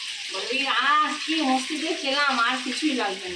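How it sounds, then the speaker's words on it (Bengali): Bay leaf and dried red chillies sizzle and crackle steadily in hot oil left from frying fish, a close, continuous fry with no talking. "মাছ ভাজার তেলে এই তেজপাতা আর এদিকে শুকনো লঙ্কা ফোড়ন দিয়ে দিল"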